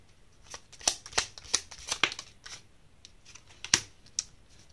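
Tarot cards are drawn and flipped from a deck, making a handful of crisp, papery snaps and slaps at uneven intervals, close and fairly loud against a quiet background.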